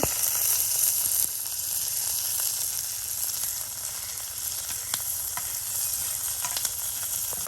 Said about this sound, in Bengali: পেঁয়াজ রসুন কাঁচামরিচ সব কিছু দিয়ে তাওয়াতে একসাথে আপনার ভাজা নেওয়া হচ্ছে